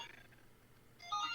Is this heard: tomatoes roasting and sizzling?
no